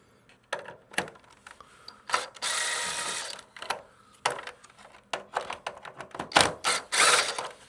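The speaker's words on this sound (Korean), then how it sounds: "이 제품은 십자 드라이버 형태네요. 여기를 먼저 풀어 놓겠습니다." A Phillips screwdriver works screws loose on a wall-mounted air conditioner, giving scattered clicks, scrapes and rattling metallic handling noises with a few longer grinding stretches, close and fairly loud.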